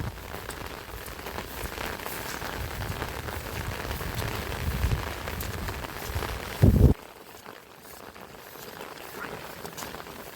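Steady rain falls on a surface as a continuous dense hiss, fairly close, with one brief louder knock before the downpour drops to a softer patter.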